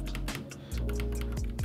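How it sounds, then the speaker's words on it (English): Typing on a Royal Kludge RK61 60% mechanical keyboard, a fast run of close, crisp key clicks and thocks over a low background hum, with no talk. "So what you have just discovered is one of Royal Kludge's mechanical keyboards."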